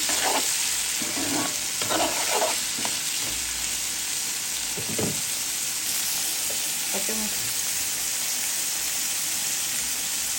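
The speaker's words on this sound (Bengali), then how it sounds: "দিয়ে দিব লবণ, একটু ভেজে নেব" Chopped tomatoes and vegetables fry with salt in a pan, a continuous sizzle with intermittent scraping and stirring clatter, steady throughout.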